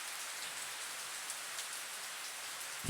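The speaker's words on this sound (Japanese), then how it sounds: "雨を止めてくれ" Steady rain falls in a continuous soft hiss, even and unbroken throughout, with a single brief thump right at the end.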